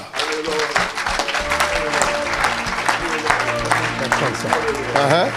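A church congregation claps in worship, with dense, sustained applause mixed with shouting and voices throughout.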